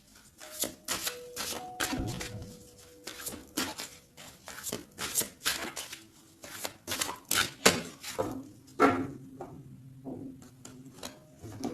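A tarot deck is cut and shuffled by hand, with a quick run of close, crisp card riffles and slaps that sound soft and dry against faint background tones.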